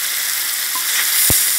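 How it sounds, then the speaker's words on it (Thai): Fried snakehead fish being stir-fried with young chilies and spring onions sizzles steadily and loudly in a hot pan, with a short scrape of the spatula near the end. "แล้วก็ผัดให้เข้ากัน ต้นหอมค่ะ2ต้น"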